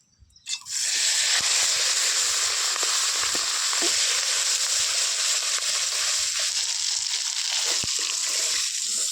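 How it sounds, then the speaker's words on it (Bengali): Katla fish pieces rubbed with turmeric fry in hot oil in a wok, giving a loud, steady, crackling sizzle that bursts in at once and holds without a break. "আমার মাছ ভাজা হয়ে গেছে।"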